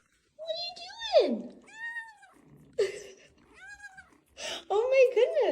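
A kitten gives several loud, close meows in a row with short pauses between them, the last ones longer and more drawn out.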